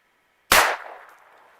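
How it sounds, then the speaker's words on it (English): A single sharp rifle shot fired while hunting snowshoe hare in the snowy outdoors, loud and close, with a short tail of echo fading over about a second. "So rabbit number 2, got a good quick clean headshot on it."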